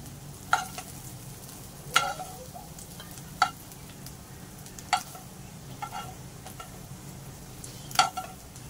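Boiled potatoes shallow frying in a pan for dum aloo give off a soft continuous sizzle, punctuated by several sharp clacks of a spatula stirring at irregular intervals, close and fairly quiet.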